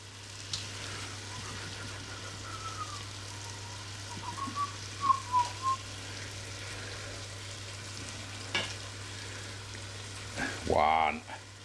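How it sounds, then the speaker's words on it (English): Sausages and tomato puree fry in a pan for a sausage casserole, a low steady sizzle running throughout with a few soft knocks and a brief louder clatter near the end. "We will fry that for 1 minute."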